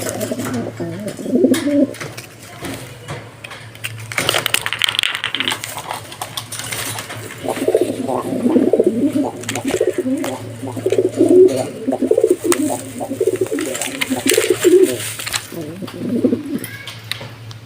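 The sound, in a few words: racing pigeons cooing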